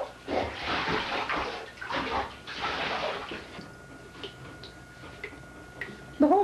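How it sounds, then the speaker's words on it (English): Bathwater sloshes and splashes in a tub during a bath, with soft ticks and drips. Voices talk intermittently over the water, and a louder voice comes in at the very end. "The whole reason for this bath is because Andrew spilled orange juice on his foot."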